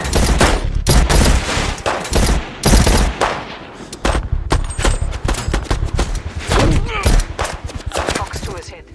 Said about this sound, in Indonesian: mereka dikepung oleh polisi Berlin hingga aksi tembak-tembakan pun terjadi